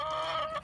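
A hen gives a brief, close, tonal call, under a second long, in a farmyard where the birds are being fed cabbage.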